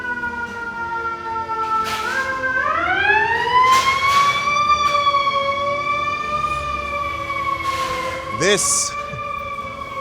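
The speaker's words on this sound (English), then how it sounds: "Sirens." Emergency vehicle sirens wail on a New York City street, a rising and falling tone that swells and shifts as the vehicles pass, with a brief horn-like blast near the end and a voice speaking briefly.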